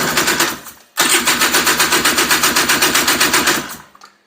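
A Honda Odyssey FL350 buggy with a newly fitted DG exhaust starts up with the choke just taken off. It fires into a loud, rapid, rhythmic chugging close by, then cuts out, with a brief burst before the run.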